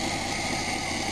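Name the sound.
RV engine idling after carburetor rebuild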